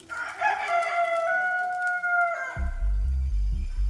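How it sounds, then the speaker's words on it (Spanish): A rooster crows once in a long, bright, wavering cock-a-doodle-doo that sounds clear and close, backed by a low droning hum that starts near the end. "y enseguida cantó un gallo."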